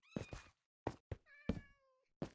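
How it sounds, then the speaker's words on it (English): A Siamese cat in the video game Minecraft meows several times in short, close, clear calls with brief pauses between them, with no talk over them. "I wanted to tame that Siamese cat"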